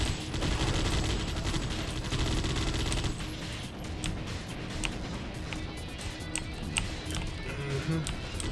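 Rapid laser weapon gunfire in a Judge Dredd video game, dense and continuous at first, then thinning into scattered sharp shots, with players talking over it.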